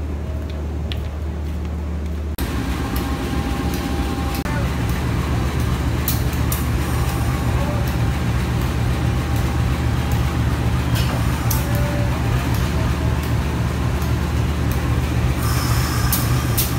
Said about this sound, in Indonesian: Ini proses pemindahan lokomotif ya